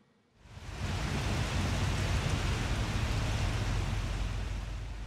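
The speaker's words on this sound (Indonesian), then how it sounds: "Hujan deras yang masih mengguyur di Jalan Pantura di Desa Sriwulan Demak" Heavy rain pouring onto the flooded Pantura road in Sriwulan, Demak, a dense steady hiss that starts abruptly and stays loud and unbroken, with no voices.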